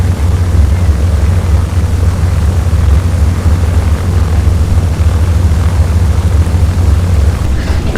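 Multi-engine propeller drone of an A2A B-17 Flying Fortress in the FSX flight simulator, taxiing at Bowerman airport; a steady, loud low-pitched radial-engine hum holds unchanged throughout with no voices.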